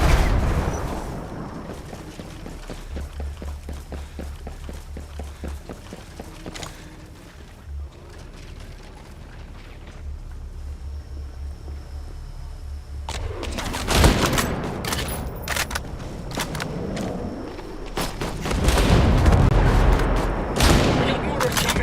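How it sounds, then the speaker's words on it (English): Incoming mortar fire in Ghost Recon Breakpoint: heavy booms and crashing impacts land amid steady mechanical rumble and scattered shots, building to loud explosive bursts near the end. "We got mortars coming."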